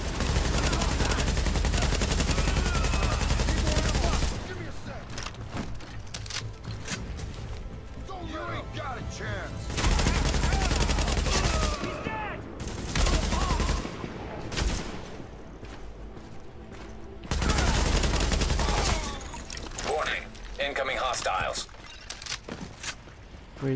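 Gunfire in a firefight in the video game Tom Clancy's The Division, with loud bursts of automatic weapon fire coming in long stretches separated by quieter gaps of clattering game sounds.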